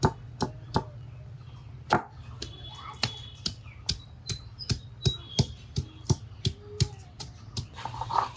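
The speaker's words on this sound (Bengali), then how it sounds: "আদাটা আগে বেটে নিই" Ginger being ground into paste by hand on a stone for pulao: a string of about twenty sharp, close knocks in a fairly steady rhythm over a low background hum, no speech.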